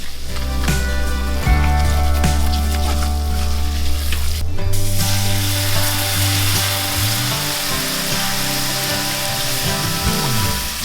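Flour is whisked in a hot pan over medium-high heat as a roux for white sauce, producing a steady close sizzle with stirring scrapes that runs through the whole stretch under a sustained tonal backdrop.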